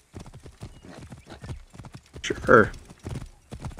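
Horse galloping in the Assassin's Creed Origins video game during a race, a rhythmic run of hoofbeats under spoken dialogue, with a sharper whinny-like burst in the middle.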